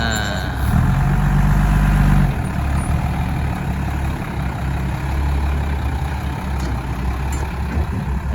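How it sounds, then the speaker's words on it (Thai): A tractor engine runs steadily while clearing ground at a work site, a loud, continuous low rumble with a brief heavier surge near the start. "มีรถไถมาช่วยกันเคลียร์ริงแล้วก็ทำงานง่ายครับนะ"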